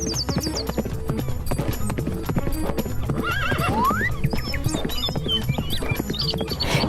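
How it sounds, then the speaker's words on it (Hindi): Horse hooves clip-clopping in a steady rhythm throughout, joined by a high neighing whinny in the middle and sporadic squeaky calls, used as a story sound effect. "चतुरी ने एक घोड़ी खरीदी और कुछ रुपए उसकी पूंछ में बांधकर चल दिया।"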